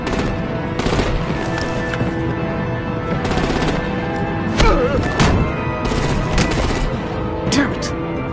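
Heavy gunfire in Batman: The Enemy Within, with bursts of rapid shots and louder booming reports arriving in irregular clusters, close and loud over a steady background of action noise.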